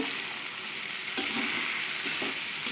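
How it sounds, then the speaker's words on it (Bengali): Boiled banana flower hits hot spice masala in a pan with a dense, steady sizzle, close and even, broken by a few soft stirring scrapes; no one speaks. "আগের দিনকে আমি কলার ফুলটা সিদ্ধ করে রেখেছিলাম তো মশলার মধ্যে দিয়ে দিচ্ছি"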